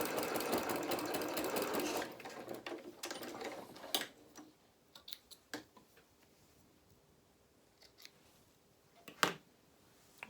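A domestic sewing machine stitches a quarter-inch seam on a coat, a fast, even rattle for about two seconds, then stops, followed by scattered soft clicks and handling taps, all fairly quiet and close.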